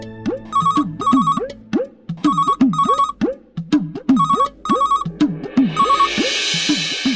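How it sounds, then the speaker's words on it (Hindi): A melodic phone ringtone repeats in several bursts, a bright chiming tune over a bouncing bass pattern, loud and close, with a noisy swell at the end. "रुको दीदी, फोन में उठाती हूँ"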